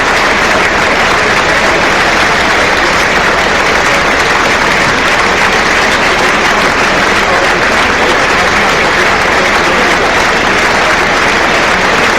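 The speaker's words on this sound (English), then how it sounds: "the whole of the Emirates Stadium stands on their feet and applauds for a minute of reflection" A packed football stadium crowd at Emirates Stadium applauds as one, a dense, loud, unbroken roar of clapping sustained for the whole stretch as fans stand during a minute of reflection.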